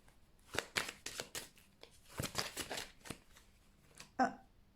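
Cards dropping and spilling during a tarot-style card reading, a quick series of soft papery slaps and flutters, close and quiet, with a sharper final flick at the end.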